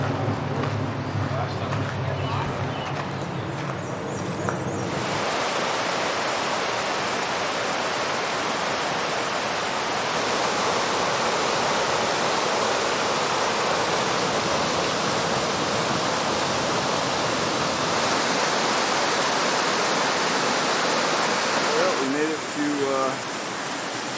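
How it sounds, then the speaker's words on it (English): Husky Branch Falls, a waterfall in the Great Smoky Mountains, gives a steady, loud broadband rush of falling water that fills the whole stretch, with some brief rustling and handling noise at the start. "Husky Branch Falls, which is what that bad boy is right there."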